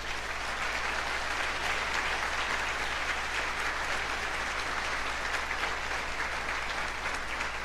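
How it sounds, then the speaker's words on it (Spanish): A church congregation at a Spanish-language service applauds in praise, a steady sustained roar of many hands clapping that fills the room at moderate loudness with no pauses or speech. "¿Cuánto le dan un aplauso al Señor?"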